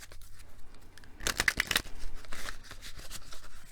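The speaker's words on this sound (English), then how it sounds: "One more shuffle." Tarot cards being shuffled, a Witchy Academy deck riffled by hand: a cluster of crisp, papery riffling bursts in the middle, with quieter handling rustles before and after, close and fairly soft.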